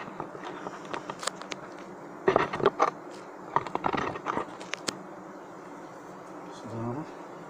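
Honeybees buzz at an open beehive during colony handling, with a continuous close hum and louder swells of buzzing as the bees move about.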